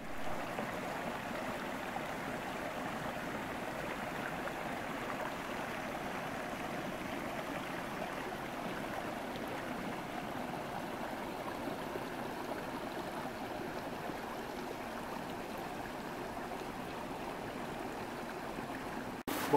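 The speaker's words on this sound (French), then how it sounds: "Alors là, bah, c'est un joli petit ruisseau que je connais bien." A small woodland stream runs through snowy winter woods, its water flowing in a steady, close, unbroken rush that keeps an even level throughout with no voices.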